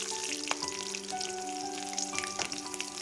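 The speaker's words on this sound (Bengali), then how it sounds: "এবার এগুলিকে ভালোভাবে ভেজে নেব।" Bay leaves, nigella seeds and slit green chillies fry in hot oil for a Bengali tel koi fish curry, a soft, steady crackling sizzle with small pops, faint and close, no voices.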